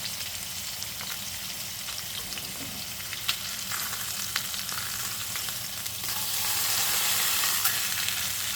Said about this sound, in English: let's flip our salmon